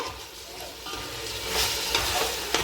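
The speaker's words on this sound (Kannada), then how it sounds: "ಈ ಚಿಕನ್ ಈ ಒಗ್ಗರಣೆಯಲ್ಲಿ ಒಂದು ಇಪ್ಪತ್ತು ನಿಮಿಷ ಆದರೂ ಚೆನ್ನಾಗಿ ಫ್ರೈ ಆಗಬೇಕು" Chicken for dum biryani fries in tempering oil over a medium flame, a close, steady sizzle with stirring scrapes that grows a little louder toward the end, without speech.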